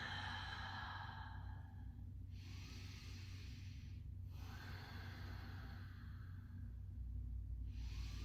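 Slow, deep breaths during a yoga stretch, long airy exhales and inhales repeating roughly every two seconds, close and soft with no talk.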